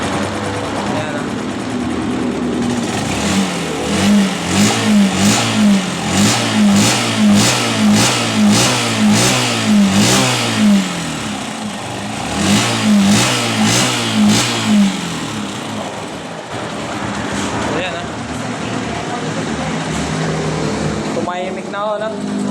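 A Honda TMX 125 motorcycle engine runs close by, revving repeatedly in short throttle bursts, then settling toward a steadier idle. The engine sound is loud and near throughout.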